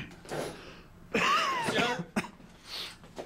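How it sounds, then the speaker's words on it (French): A few harsh coughs and throat-clearing bursts up close, spread across a few seconds with short pauses between them, no talking. "c'est juste une petite toux, je pense"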